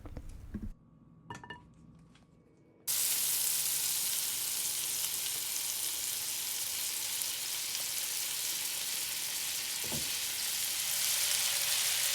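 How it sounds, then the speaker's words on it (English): Ravioli browning in a hot frying pan, a loud, steady sizzle that starts abruptly after a few quiet kitchen clinks and continues close and unbroken, with a faint tap later on. "I recommend browning the ravioli on just one side for the best texture."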